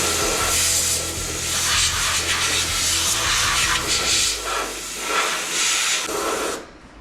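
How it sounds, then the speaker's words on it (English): Compressed air hisses loudly and steadily into an El Camino part to dry it, wavering in strength, then cutting off abruptly near the end. "I'm gonna just like blow in there and make sure it's all dry"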